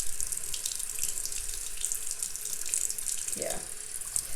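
Running tap water rinsing a makeup brush in a sink, a steady close hiss and splash with a gurgling swirl near the end, continuous throughout.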